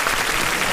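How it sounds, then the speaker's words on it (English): A brief, steady burst of audience applause on a radio talk show, dense clapping at moderate volume with no voices on top. "I'm going to give y'all another round of applause"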